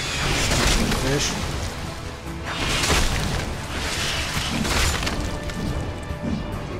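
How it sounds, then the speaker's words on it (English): Ships exploding in the VR game Asgard's Wrath, a dense run of loud crashing booms and shattering bursts repeating every couple of seconds over continuous battle noise. "Look up for the ships exploding."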